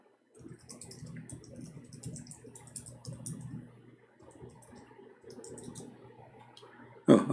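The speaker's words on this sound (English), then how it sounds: "Oh, I was typing" Someone types on a computer keyboard in a quiet room, a run of quick, close clicking keystrokes with a brief pause midway and a louder knock at the end.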